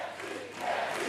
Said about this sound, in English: the crowds are shouting, thank you.